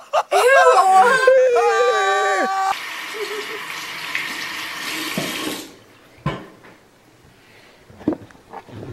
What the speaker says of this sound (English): Just had to wash my one hand.